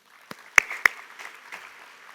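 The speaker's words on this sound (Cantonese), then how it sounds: "再俾啲掌聲" A handful of scattered claps ring out at a Hong Kong gifted-education awards ceremony, a few sharp isolated hand claps followed by a light, fading patter in a quiet hall.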